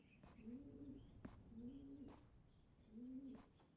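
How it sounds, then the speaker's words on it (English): A pigeon-like bird coos in repeated soft phrases through a wall, muffled and fairly faint, with light clicks between the calls. "That constant makes it sound like there's like a fucking bird nesting in my wall."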